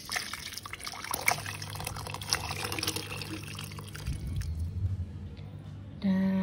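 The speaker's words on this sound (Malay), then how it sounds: "Kita keluarkan mixing bowl dan kita tuang dalam bekas." Thick fish curry made with small fish pours from a Thermomix TM6 mixing bowl into a container, a soft close wet glugging and dribbling that fades before a brief tonal sound at the end.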